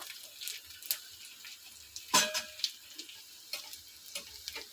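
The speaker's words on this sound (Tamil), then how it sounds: "இப்போ காஞ்ச மிளகா கொஞ்சம் போட்டுக்கிடுவோம் ஒரு அஞ்சாறு மிளகா" Five or six dried red chillies crackle and sizzle in hot oil while tempering for a Tamil sambar, sparse close pops and ticks with one sharper spatter in the middle, no voices over it.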